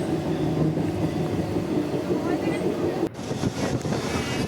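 Loud, steady rumble of a passenger train rolling along the tracks from Naihati, with a sudden shift partway through as it slows into Chakdaha station.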